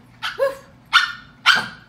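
A dog gives three separate vocal bursts, bark-like yelps that stretch into a melodic howling 'song', close and clear with short pauses between them.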